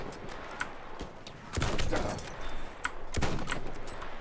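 Rapid gunfire in the first-person shooter Battlefield 1, with dense bursts of shots and sharp cracks layered over constant battlefield noise, loud and continuous.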